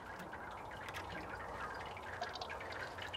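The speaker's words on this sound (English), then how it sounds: "All we're going to do is open our tap" Hot water runs steadily from the tap of a hot liquor tank, rinsing over the grain bed in a mash tun, a continuous close trickling and splashing with no talk over it.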